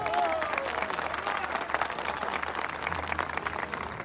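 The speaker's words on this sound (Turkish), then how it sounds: "Koç yiğitler bu alkışlar size baş pehlivanlar." A crowd at the Çamlıdere oil wrestling festival applauds the wrestlers in a sustained, even roar of clapping heard from a distance, with a brief voice near the start.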